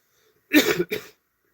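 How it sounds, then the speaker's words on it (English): A short, rough cough in two quick bursts, close and fairly loud, with silence before and after. "It's that early morning cough."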